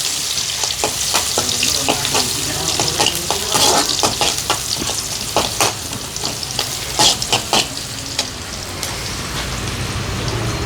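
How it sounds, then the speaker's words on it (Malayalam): Onions sizzle vigorously in hot oil in a pan as the base for a fish curry, a loud, continuous crackling hiss with frequent spatters and stirring scrapes, close and without talk. "ഉള്ളി കാച്ചുമ്പോഴാണ് മീൻ കറിക്ക് നല്ല മണം വരുന്നതെന്നാ"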